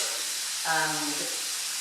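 Spiced lamb sizzling in a hot pan, a steady broadband frying hiss that fills the whole stretch, with a short tonal hum rising briefly in the middle.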